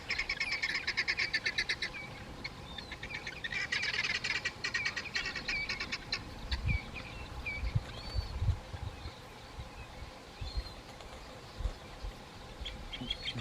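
Birds at dusk flying off to roost in trees on a small island, a busy mix of chirps and calls, denser at first, then thinning to scattered calls over low rumbling ambience.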